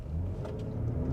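A 2025 Lincoln Aviator Reserve with a twin-turbo V6 accelerates hard up a slight incline, a loud, steady engine rumble and rising drone filling the interior with no talk over it.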